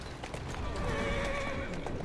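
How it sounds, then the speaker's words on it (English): A horse-drawn carriage rolls along in Assassin's Creed Syndicate, hooves clip-clopping steadily while a horse lets out a loud, drawn-out neigh partway through. "while you're riding the carriage and your horse is going completely and totally apeshit"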